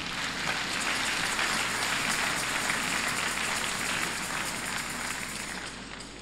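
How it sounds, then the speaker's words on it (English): Church congregation applauding during an ordination and collation service: a dense, steady wash of many hands clapping at once, fairly loud and continuous for several seconds, tapering slightly at the end. "Shall we clap for this type of man?"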